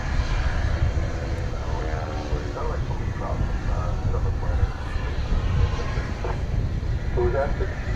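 At DFW Airport, a large Martinair cargo jet powers overhead with a continuous broad engine roar and rumble that stays steady throughout, with faint voices in the background.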